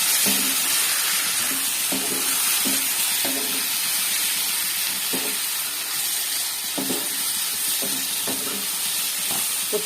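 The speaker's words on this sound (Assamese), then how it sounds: "এয়া মই এতিয়া হাই ফ্লেমত 5 মিনিট ভাজি ল'ম।" Chicken pieces fry on a high flame in a pan, giving a continuous sizzle and hiss broken by repeated scraping stirs at an uneven rhythm, close and moderately loud, without talk.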